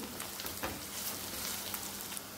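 Garlic and ginger paste frying in hot oil for an egg spinach curry, a steady close sizzle with fine crackling throughout and no talking.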